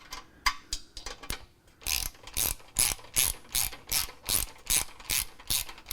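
Hand ratchet tightening exhaust bolts on a BMW E92 during an exhaust install, a run of sharp clicking strokes, slow and uneven at first then settling into a steady, loud back-and-forth rhythm close by.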